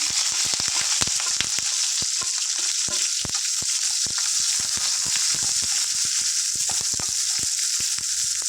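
Onions and green chillies sizzle in hot oil in a pan, a steady bright frying hiss with frequent sharp crackles and pops, close up and without talk.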